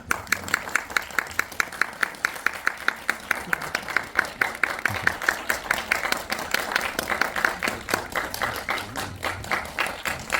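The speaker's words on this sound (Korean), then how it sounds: "박수로 환영합니다" A cinema audience claps steadily to welcome a film director and cast at a premiere talk event, a long run of sustained applause with rapid, fairly even hand claps throughout, at moderate level.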